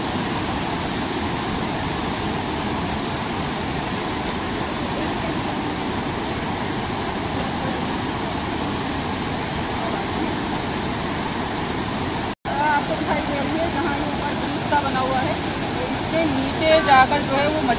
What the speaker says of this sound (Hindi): इतना पानी का बहाव तेज है कि